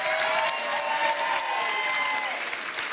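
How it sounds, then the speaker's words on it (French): Studio audience at a French television dating game show breaks into steady applause with a few cheers, a dense, continuous wash of clapping that holds throughout. "On vous applaudit."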